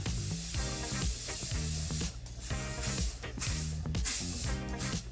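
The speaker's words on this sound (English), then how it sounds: "So spritz your hair." Hairspray is spritzed onto styled hair in several short, hissing bursts spaced about a second apart, heard close over steady background music.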